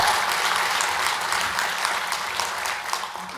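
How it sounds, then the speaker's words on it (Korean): A church congregation at a Won Buddhist sermon breaks into steady applause, a dense, continuous wash of many hands clapping for several seconds with no voices over it, tapering slightly at the end. "우리 잘할 수 있도록 박수 한번 쳐볼까요"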